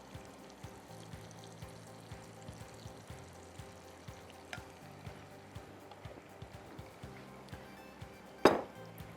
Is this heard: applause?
no